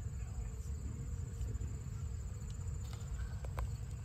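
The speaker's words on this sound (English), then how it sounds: "that is the bees. It's not the drone." A faint, steady drone of bees in a Detroit garden in fall hums over a low rumble, with a few brief high clicks near the end and no voices.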